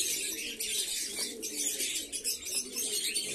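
Pigeons in a loft coo softly in low, rolling murmurs, with faint chirps and occasional wing flutters over a steady background hiss.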